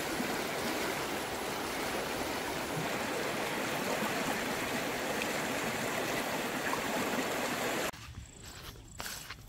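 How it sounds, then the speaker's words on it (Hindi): Water rushing steadily along a nala, a seasonal stream, a dense, close broadband wash for most of the clip before dropping abruptly to softer trickling with a few brief sounds at the end. "पहुंच गया मैं पनौर नाले पे"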